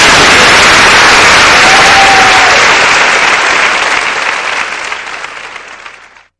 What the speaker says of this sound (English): Let's give everybody another big round of applause.